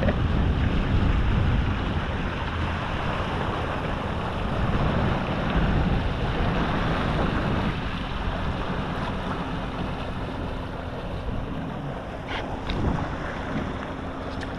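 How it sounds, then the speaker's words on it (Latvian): A motorboat with a big outboard engine speeding across a lake at the start of a fishing competition, heard as a continuous loud roar mixed with rushing water and wind buffeting the microphone. "Nu, reku, Oskars ar savu lielo motoru mauc!"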